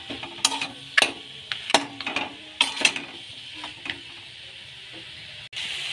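Fish head frying with ginger paste and cumin in a pan, crackling and hissing under a lid, with a few sharper clatters and stirring knocks; steady sizzle throughout, no talk.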